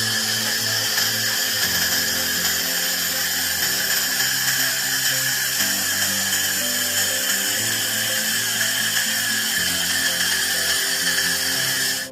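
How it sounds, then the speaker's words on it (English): A laser welder with a cleaning head works over welded seams with discolouration, a loud, steady, high whine with a constant hiss that holds without a break and has no voices. "Laser cleaning of welded seams with stray colors,"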